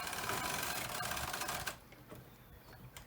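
A knitting machine carriage with the ribber attached is pushed across a full needle rib for the first row, a brisk clattering mechanical rattle that lasts about a second and a half and then stops abruptly, leaving quiet room noise.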